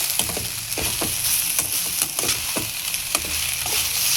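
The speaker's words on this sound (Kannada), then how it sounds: "ಸ್ವಲ್ಪ ಲಿಂಬೆ ರಸ ಹಾಕಿ ಚೆನ್ನಾಗಿ ಮಿಕ್ಸ್ ಮಾಡೋಣ" A spoon stirs kadlepuri chitranna, puffed rice with lemon juice, in a pan, giving a dense, loud, steady rustle and crunch with repeated scraping strokes and no voices.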